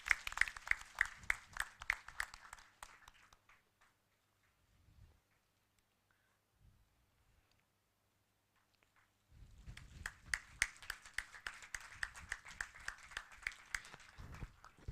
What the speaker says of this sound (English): the audience needs to clap to match it